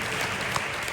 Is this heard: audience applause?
yes